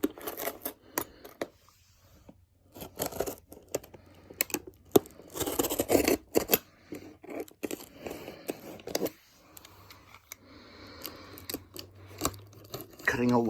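A blade slicing through packaging on a Lionel Disney World 50th Anniversary train set box: close, irregular scraping, crinkling and tearing bursts, with talking in between.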